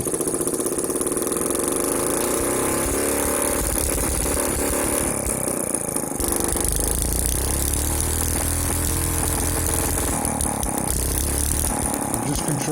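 Modified Chinese engine with a carburettor conversion and a new pickup, running loud and close with a rough, steady drone whose revs rise and fall as the air is adjusted.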